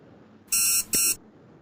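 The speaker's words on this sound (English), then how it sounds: "This pre-buzz would be to let you know that your time is about to get over." A one-minute warning pre-buzz at a competition finals event sounds as two short, loud, bright electronic beeps, each lasting about a quarter second, separated by a brief gap. No other sound surrounds them.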